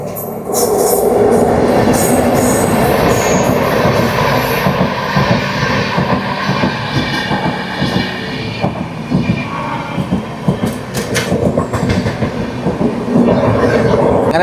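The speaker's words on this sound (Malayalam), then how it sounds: "അങ്ങനെ രാമകുണ്ടത്ത് നിന്ന് നമ്മളെ ട്രെയിൻ എടുത്തു" Himsagar Express in motion near Ramagundam, a loud continuous rumble of the train with rattling carriages and clacking bursts throughout, no speech over it.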